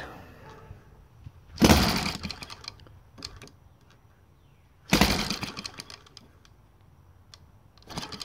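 A Saito FA182T model engine with a CH CDI gasoline conversion is cranked, giving three short, loud sputtering bursts separated by quieter gaps with faint clicks.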